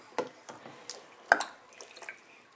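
A bath water tap lets drips fall into a bathtub, giving scattered soft plinks and splashes with a brief louder drop in a quiet room.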